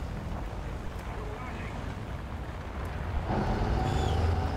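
Vehicle engine in the War Thunder video game, a steady whooshing roar that grows louder and fuller toward the end, with a low rumble and faint speech partly under it.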